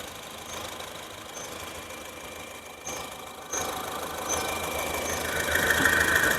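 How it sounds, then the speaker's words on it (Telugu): A 2016 Honda City VX petrol engine idles at close range with a steady, even mechanical hum. Faint ticking runs through the idle, and the hum grows slightly louder in the second half. "ఇంజిన్ చాలా స్మూత్గా ఉంది, బెల్ట్ సౌండ్ గట్రా ఏం లేదు"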